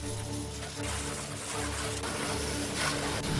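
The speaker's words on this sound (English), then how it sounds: "Water blasts away the layers of dirt and time," A powerful water jet blasts caked mud off a rusty, long-neglected Jeep, giving a loud, continuous gushing spray with a few surges and no voices.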